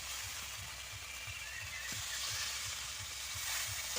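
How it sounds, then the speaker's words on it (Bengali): Water poured into a pan of sautéed, spiced curry in a home kitchen, a steady broad sizzle and hiss with faint stirring taps running evenly throughout, close and moderately loud, no voices. "এবার জল ঢেলে দেওয়া হবে"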